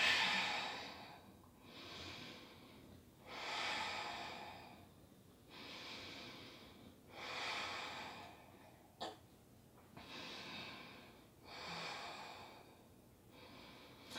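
Slow, deep breathing while holding a yoga pose for shoulder strength: about eight rhythmic, airy inhales and exhales, evenly spaced a couple of seconds apart, close and soft, with no talking.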